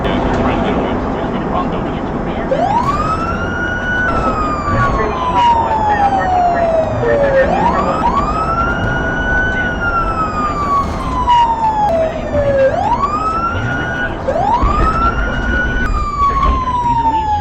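A police siren wails in repeated rising and falling sweeps, loud and close, over a steady roar of traffic and engine noise, with some talking underneath.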